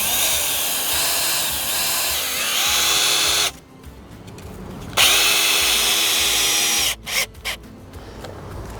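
A power drill drives screws into the wood of a deep raised bed, with a sustained whirring burst, a brief pause, a second long run, then a few short stuttering pulses.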